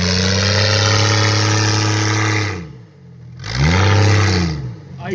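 A lifted Jeep with an LS swap revs hard during a two-wheel burnout on a mineral ridge trail, a loud sustained engine roar that dips briefly, then climbs back up and holds high.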